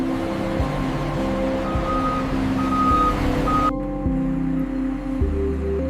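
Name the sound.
armored vehicles arriving, reversing beeps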